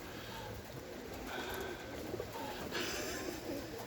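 Pigeons cooing and fluttering around a lake with an island, recorded on a bike trip along Canal Road in Chiang Mai, Thailand; a steady, moderately loud flock murmur with outdoor background noise and no talk.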